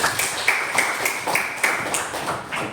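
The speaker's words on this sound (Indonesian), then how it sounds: "Tepuk tangan untuk temannya" Applause for a classmate in a group setting: a run of clustered, fairly regular claps at moderate loudness, with no talk over them.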